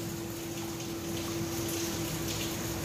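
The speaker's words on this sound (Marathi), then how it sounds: "एका कढईत पायनॅपलचा रस आणि 2 वाटी पाणी," Pineapple juice and water pour steadily into a pan, a continuous watery hiss with a faint constant hum underneath, no voices.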